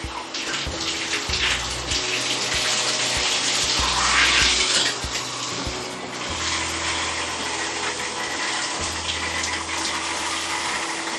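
Water running steadily from a removable shower head, a loud continuous hiss and spatter that shifts slightly in tone as the spray moves, with no talking.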